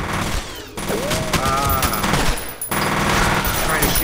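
Enemy gunfire in the shooter game F.E.A.R., fired from across cover near some planters: dense, overlapping bursts of shots crackling continuously through the whole stretch, with a short lull partway through, loud and close amid game noise.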